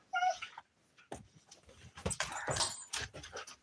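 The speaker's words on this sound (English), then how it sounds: "let me let these crazy puppy dogs out. They hear the coyotes out there." Pet dogs whimpering and yipping indoors, eager to get out and chase coyotes nearby; a short burst of high whines opens, then a run of excited yelps, scuffling and movement follows, fairly close.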